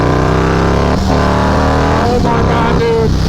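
A supercharged Harley-Davidson motorcycle, one with the largest engine of its line, pulls hard in fourth gear at part throttle, a loud, close, continuous engine roar with a rising pitch and no pause.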